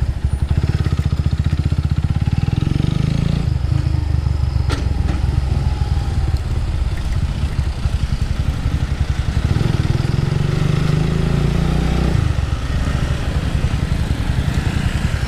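A Kawasaki W175 SE motorcycle engine drones steadily and loudly while riding, with a low, even rumble and faint mechanical clatter throughout, rising and easing slightly as the throttle changes; no voices are present.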